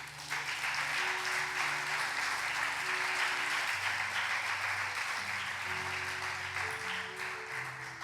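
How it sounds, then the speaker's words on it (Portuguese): A church congregation applauds in a steady, dense wash of clapping lasting several seconds, with sustained organ or keyboard tones playing underneath. "Aplauda o Senhor."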